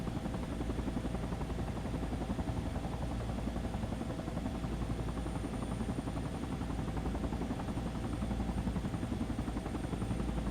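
Helicopter engine whining and rotor thrum as it powers up in the Battlefield 2 Project Reality mod, a steady, even drone running unchanged the whole time with no voices.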